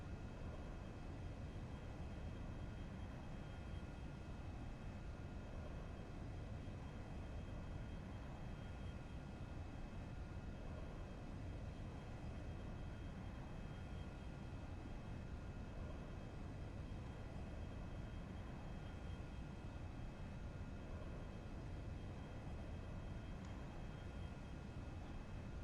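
Cirrus Vision SF50 jet engine in the X-Plane 11 flight simulator, a steady, even, faint roar with no change throughout and no talking.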